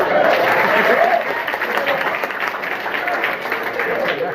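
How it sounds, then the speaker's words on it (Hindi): Children clap together at a school gathering, a sustained, fairly loud patter of many small hands with voices mixed into the din, continuing steadily throughout. "ताली बजाओ"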